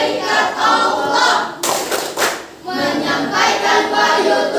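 A school class in Indonesia doing the tepuk 10 malaikat clapping chant, many hands clapping together in a steady loud rhythm with a brief louder burst midway and voices mixed in.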